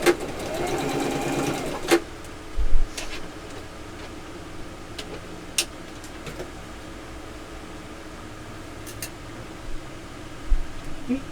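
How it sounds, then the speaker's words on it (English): A sewing machine stitches a straight seam on fabric, running backwards and forwards to secure it: a loud, close mechanical whirr at the start, then quieter running with a few sharp clicks and knocks. "just sew a straight line. You know, I go backwards and forwards a couple times is all."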